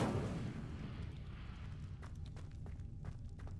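The Incendio fire spell cast in a video game bursts out as a rushing, crackling flare over a low rumble, followed by several sharp, brief pops that trail off. The sound is moderately quiet, and no one speaks.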